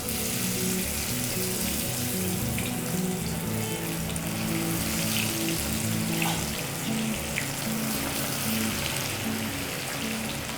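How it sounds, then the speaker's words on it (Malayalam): Marinated fish pieces fry in hot sesame oil with a quiet, continuous hissing sizzle that holds steady throughout, without speech. "ഇനി നമുക്ക് പുരട്ടി വച്ചേക്കുന്ന ഈ മീൻ കുറേശ്ശെ ഇട്ട് വറുത്ത് കോരാം."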